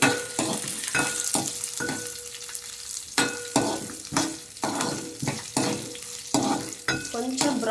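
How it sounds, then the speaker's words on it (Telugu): Garlic with skins and sesame seeds dry-roasting in a pan, stirred in regular scraping strokes over a constant crackling sizzle, close and fairly loud with no talk. "వెల్లుల్లి కొన్ని నువ్వులు బాగా మిక్స్ చేసుకోవాలి"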